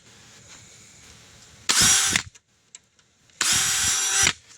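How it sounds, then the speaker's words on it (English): A power drill whines loudly drilling into plastic at an angle in two bursts of about half a second each, separated by a short pause with faint clicks. "you're going to start drilling at an angle here pretty quick."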